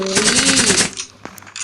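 Rapid Uzi submachine gun fire in the video game Forward Assault, a fast burst that cuts off, followed by a few scattered clicks and thuds.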